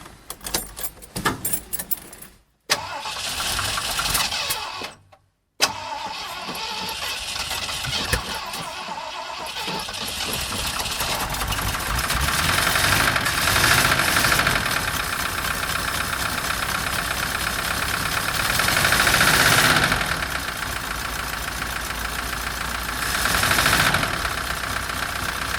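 A small engine fitted with fresh spark plugs cranks in short bursts with brief gaps, then catches and settles into a steady, fairly loud idle that swells and dips a few times.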